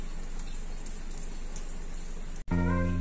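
Rain falling steadily as an even hiss, recorded around a Toyota Avanza or Daihatsu Xenia, cut off abruptly near the end by a louder tonal hum.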